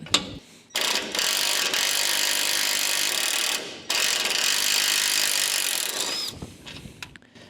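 A ratchet wrench clicks rapidly in long, loud runs on badly rusted bolts, pausing twice between bursts before tapering into a few scattered metallic knocks.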